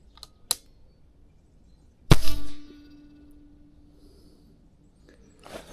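A PX-5 air rifle fires single-loaded shots at a target during outdoor zeroing: a faint early crack, then a loud sharp report with a brief ringing tail, and another soft impact near the end amid quiet.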